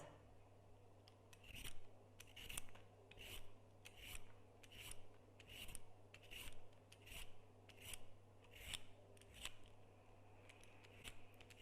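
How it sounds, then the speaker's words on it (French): A vegetable peeler scrapes a carrot in a steady rhythm, about a dozen short rasping strokes, close and quiet over a faint hum. "J'écoute le son de l'éplucheur sur la carotte."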